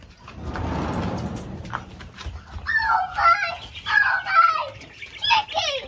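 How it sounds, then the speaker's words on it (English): Baby chicks a few weeks old peep in a brooder, a cluster of high thin chirps in the second half, close by, following a burst of rushing noise at the start. "We're gonna see the baby chicks."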